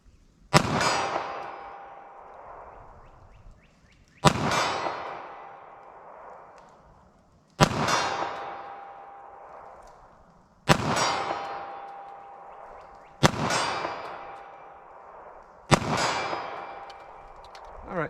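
A .380 ACP pistol loaded with Speer Gold Dot fires six spaced shots at a steel target 40 yards away, each sharp crack followed by a ringing metallic clang that decays before the next shot.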